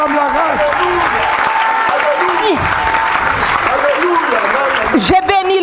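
A church congregation claps and cheers in sustained, loud applause, with a preacher's voice speaking over the noise.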